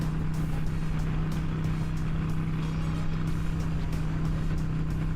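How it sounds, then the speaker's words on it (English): Harley-Davidson 883 motorcycle engine at highway speed, a steady loud drone with a low constant hum, mixed with heavy wind rush over the whole stretch, no breaks or talking. "Despite the violent shaking of the Harley Davidson 883 engine"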